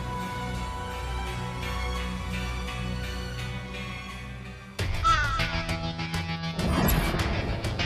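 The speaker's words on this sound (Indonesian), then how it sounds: "ada si burung hitam itu lagi" Crow cawing amid a dramatic, music-heavy scene, the calls sharp and mid-distance, surfacing over a dense musical backdrop that swells and crashes partway through, with no talking.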